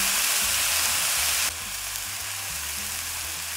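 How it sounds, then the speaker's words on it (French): Rice sizzles loudly in a pan with spices such as paprika for a red fried rice, a dense steady hiss that drops slightly in level partway through and continues without a break, up close and with no talking. "So I'm gonna fry the rice with the spices."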